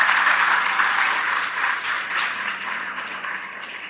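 An audience at a children's assembly in Rawalpindi/Islamabad applauds, a dense, sustained patter of many hands clapping that gradually fades a little in loudness.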